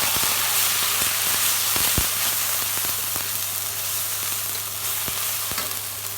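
Ground paste of ginger, garlic, cumin and green chili hits browned onions in hot oil, sizzling loudly and steadily with occasional stirring clinks and pops.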